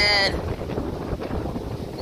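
Gusty wind buffeting outdoors, an uneven rumbling rush against the microphone that comes and goes in soft surges after a brief tonal sound at the very start.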